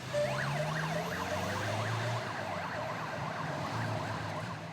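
An ambulance siren wails in a fast rising and falling pattern, steady and fairly loud over traffic noise, as a patient is moved from an emergency care unit in the Zona Norte.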